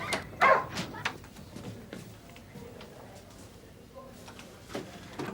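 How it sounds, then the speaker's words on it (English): A dog barks sharply a few times near the start, then whimpers and yips intermittently, fairly close, with indistinct voices in the background during a police drama scene. "The dog looks vicious."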